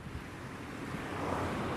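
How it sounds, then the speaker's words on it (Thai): Strong sea waves roll onto Pak Meng beach in Sikao, Trang, as a continuous roaring surf that swells slightly louder, mixed with gusting wind rumble on the microphone. "ตรงนี้มัน คลื่นแรงไปหน่อย"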